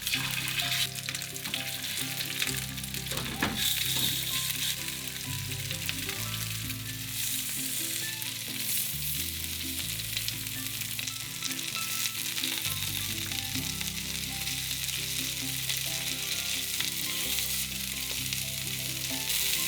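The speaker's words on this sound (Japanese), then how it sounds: "タラと大根を焼きます。" Cod and daikon radish pan-frying in olive oil over medium-low heat crackle with a dense, steady sizzle, close and continuous, with faint tonal background underneath and no talking.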